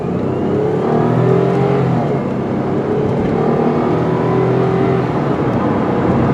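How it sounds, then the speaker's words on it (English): A black 2002 Acura CL 3.2 coupe accelerating moderately, its engine rising steadily in pitch with gear changes, loud and continuous with road and wind noise beneath. "I'll do a little quick acceleration again, not as hard as before."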